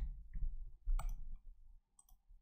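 A computer keyboard gives a few scattered, quiet clicks and taps, close by with no one talking.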